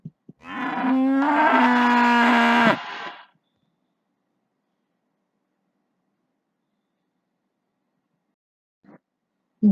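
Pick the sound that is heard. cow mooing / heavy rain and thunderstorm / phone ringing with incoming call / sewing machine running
cow mooing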